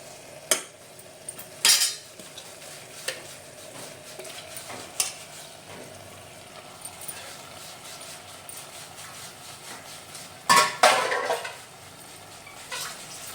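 Mutton for a Savaji-style mutton sukka goes into a pan and cooks, with a soft background sizzle broken by scattered metallic scrapes and clatters of a spoon against the pan, one louder burst of stirring near the end.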